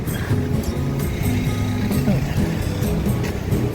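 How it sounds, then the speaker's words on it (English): Cars passing on a street by the Pogradec waterfront in winter, a steady loud engine and tyre hum filling the whole stretch with no pause, close to the listener. "Watch out for cars."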